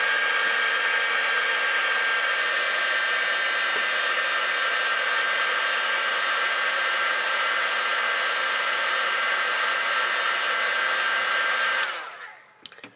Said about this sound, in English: I'm going to dry it up a little bit with my heat gun